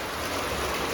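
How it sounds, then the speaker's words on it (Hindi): Heavy rain pours down steadily in a dense, continuous hiss with a watery rush, loud and unbroken throughout, with no voices. "पूरा तेज बारिश हो रहा है,"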